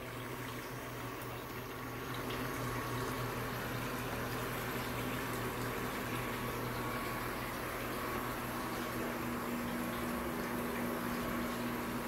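Water runs steadily into a rustic farmhouse sink after a push-button faucet is pressed, a dense continuous hiss and rush that grows a little louder after the first two seconds and holds steady, with no talking.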